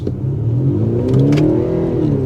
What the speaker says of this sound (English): let's give it now a little bit of throttle here